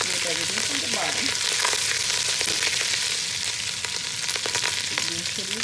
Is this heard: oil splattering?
yes